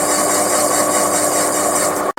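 A lathe machines a brass insert for a repaired gear on a Lady Anne model locomotive, giving a steady, loud, continuous whirring drone that cuts off abruptly near the end.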